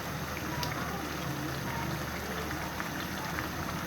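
Cabbage greens and stems fry in a pan for gobi gosht, giving a steady dense sizzle and crackle that runs without a break throughout, with no talking.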